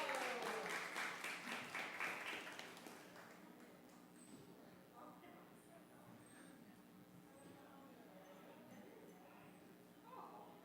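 Brief applause from a small audience at a storytelling night, a few seconds of clapping that quickly fades into a quiet room with faint background sounds.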